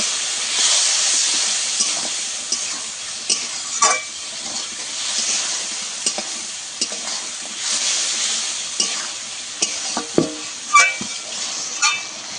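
Turmeric, chilli and coriander powder with a little water frying in a pan, a steady close sizzle and hiss broken by scraping stirs, with no voices.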